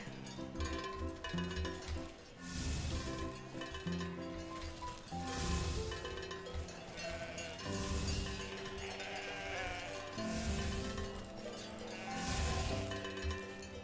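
Sheep in the video game Wytchwood bleat several times in a row, their cries sounding over a continuous musical backdrop with chiming tones.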